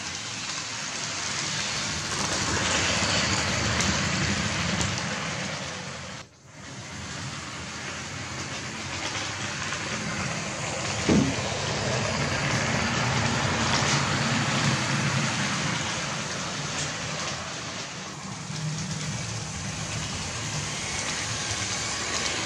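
A Lima HO-scale Class 33 locomotive pulls four 1960s British Railways coaches around a model layout, giving a steady rumbling rattle that runs for the whole stretch and briefly drops out once.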